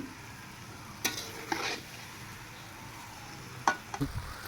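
Spice masala being stir-fried in a pan for a yam and rohu fish curry: a quiet low sizzle broken by a few sharp spatula scrapes and clinks against the pan, close but faint, with no speech.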